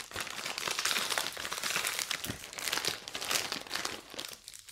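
Blaschke coconut dome sweet from Austria, wrapped individually in paper, being unwrapped: steady close crinkling and crumpling of paper with small tearing rustles throughout.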